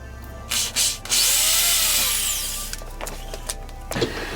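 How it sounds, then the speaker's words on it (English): A power drill bores a hole into a wooden nunchuck handle: two brief revs, then a sustained loud whine that sags as the bit bites into the wood, followed by a few short bursts and clatters. "you drill a hole into the wood"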